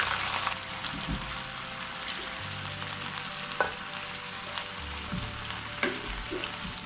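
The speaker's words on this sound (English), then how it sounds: "So I will flash fry these" Steak pieces flash frying in a pan, a continuous close sizzle with occasional sharp spatters and a few clinks as the meat is moved.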